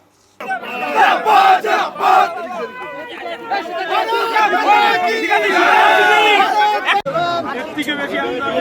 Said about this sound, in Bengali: কেউ বা তাকে গেরুয়া আবির দিয়ে জয় শ্রীরাম স্লোগান দিলেন